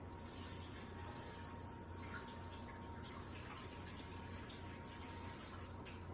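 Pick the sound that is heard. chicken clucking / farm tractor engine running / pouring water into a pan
pouring water into a pan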